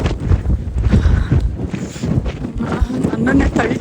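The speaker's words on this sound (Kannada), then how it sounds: "ಲಿಟ್ರಲಿ ನನ್ನನ್ನು ತಳ್ತಾ ಇದೆ ಗಾಳಿ." Strong gusting wind buffets the microphone outdoors at a dramatic spot in Wales, a loud continuous low rumble with rushing bursts, while a person talks over it.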